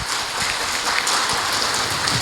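A seated audience at an Indonesian palm oil expo and socialisation event bursts into brisk, dense clapping, loud and close throughout the short stretch with no voices over it.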